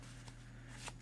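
A tarot deck, the New Orleans Voodoo Tarot, is given an overhand shuffle, making faint, soft papery riffles with a couple of brief brushing bursts over a steady low hum.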